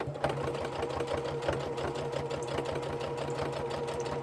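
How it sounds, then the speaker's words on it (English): A sewing machine stitches continuously, giving a steady, fast mechanical hum and rapid clatter heard up close. "You're not going to be able to see me sewing, but you can imagine, right?"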